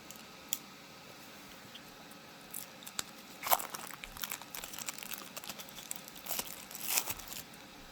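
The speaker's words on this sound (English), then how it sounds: "let me take the plastic off, and then we'll get into the deck." Plastic wrap is peeled off a Major Arcana tarot card deck, giving quiet crinkling and tearing rustles that pick up in scattered bursts through the second half, with a few sharp ticks.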